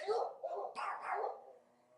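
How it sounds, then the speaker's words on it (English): Dogs bark close by indoors, a quick run of sharp, loud barks packed into about two seconds before fading. "Sorry, dogs."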